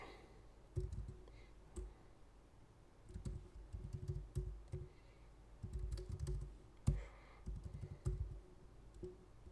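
Fingers type on a computer keyboard in quick bursts of clicking keystrokes, close and fairly quiet, separated by short pauses.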